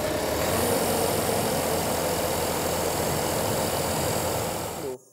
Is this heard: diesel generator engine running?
yes